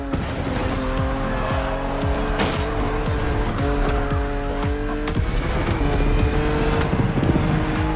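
A BMW Z4 E89 driven hard in The Crew Motorfest, its engine revving loudly through repeated gear changes with tires squealing and skidding around corners, continuous and close.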